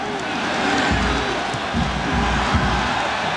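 A football stadium crowd roars and cheers in response to Thierry Henry's skill on the ball, a broad sustained swell of many voices, distant and steady, with thumping low rumbles beneath.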